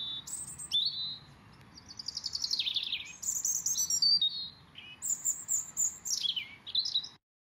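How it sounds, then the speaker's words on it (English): A bird chirping and whistling sound effect plays alone: bright, rapid tweets and sweeping whistled calls repeat for several seconds, clear and close, then stop abruptly. "the soft wind in the back and the birds chirping"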